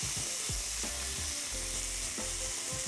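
Food sizzles and fries in a hot pan with garlic and sesame oil, a continuous close crackling hiss with soft stirring and scraping bumps.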